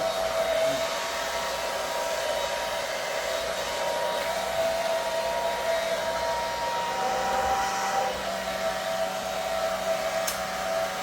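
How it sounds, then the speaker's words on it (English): A hair blow dryer with ion setting on runs with a steady, loud whooshing hum, unbroken for the whole stretch. "Blow dryer."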